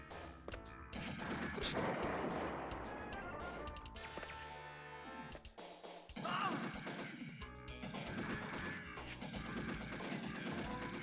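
Gunfire and crashing impacts in a video game, dense bursts of shots layered with smashing sounds, loud and continuous, with a brief lull midway before the shooting resumes.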